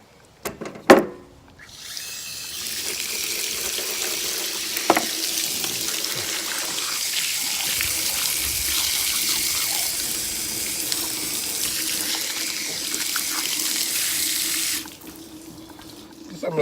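Tap water runs steadily for about thirteen seconds over a freshly skinned and cleaned catfish, a broad close hiss with a few clunks at the start before the flow cuts off.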